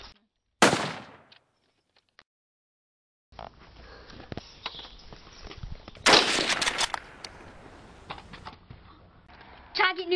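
A sharp, loud crack of Nerf blaster fire rings out near the start, followed by silence, then a stretch of rustling movement and scattered bursts of noise.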